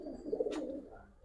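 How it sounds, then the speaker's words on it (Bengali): Giribaz pigeons, a green pair among pairs offered for sale, give a soft, low cooing murmur close by, with a brief airy flutter in the middle of the short stretch. "এক পেয়ার সবজি গিরুবাস, আর এক পেয়ার ওই যে ইউনিক কালার এক পেয়ার কবুতর ভাই"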